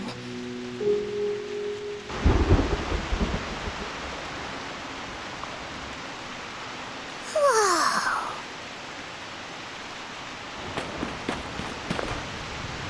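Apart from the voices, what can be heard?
heavy rain and thunder outside in Reverse: 1999 video game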